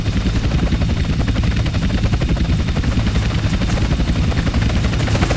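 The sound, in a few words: helicopters in the video game GTA San Andreas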